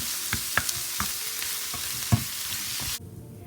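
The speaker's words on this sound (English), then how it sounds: "And then I'm going to throw in the portobello mushrooms" Portobello mushrooms and onions fry in a pan on a stovetop at medium heat under a steady sizzle, broken by a few sharp scraping stirs. The sound cuts off abruptly near the end.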